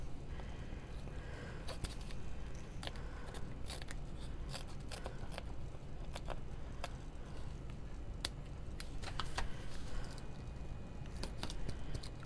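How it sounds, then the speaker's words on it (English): Scissors cutting a Dollar Tree hot pad, with repeated crisp snips and crunchy cuts spread irregularly over a steady low hum, close up with no talking. "The scissors work really well."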